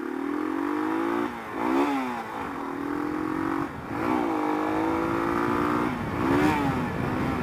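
A motorcycle engine revs hard in a long first gear, rising and falling in repeated surges with short dips between them, fairly close and moderately loud over rough terrain.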